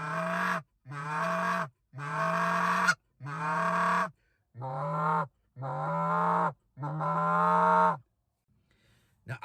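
A handheld goose call blown in a series of about eight long, steady honking notes across three pitches, each blast loud and close with short gaps, no cadence or rhythm of a real goose.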